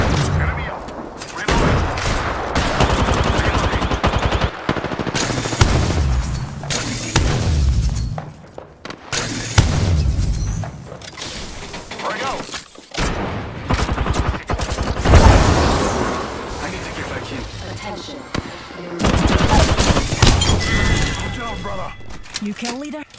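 Rapid gunfire in a shooter video game, bursts of automatic weapons and sharp cracks going on and off, loud and close, with people talking over the shooting.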